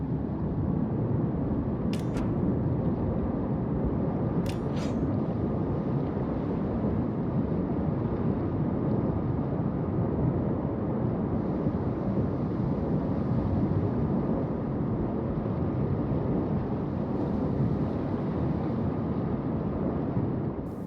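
A warship on sea trials accelerates toward top speed with engine boost engaged, giving a loud, steady low rumble of engines and rushing water with wind noise, unbroken for the whole stretch and with a couple of faint clicks.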